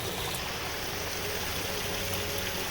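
A winter creek in Revelstoke, BC, runs steadily at a gold prospecting spot, giving a continuous close rushing and babbling wash with no pauses or voices.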